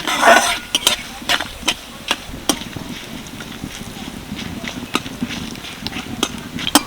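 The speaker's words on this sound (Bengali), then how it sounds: "পাঁচ ফোড়নটা হালকা করে ভেজে নেব" Panch phoron spices frying in a pan, a soft steady sizzle punctuated by repeated sharp stirring scrapes and clinks at an irregular rhythm, close and moderately loud, with no talking.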